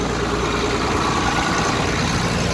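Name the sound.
tractor engine running a straw baler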